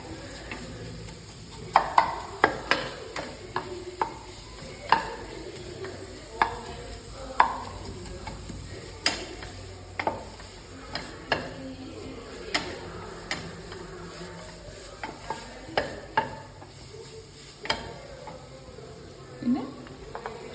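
A spoon stirs momo masala filling into a paste in a pan, making repeated scraping knocks and clicks in an irregular rhythm over a soft sizzle, close and moderately loud throughout.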